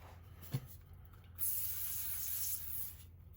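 A short, steady hiss of a PB penetrating oil aerosol spray lasts about a second, faint and close, after a small knock, wiping down a big-block 460 engine during a rebuild.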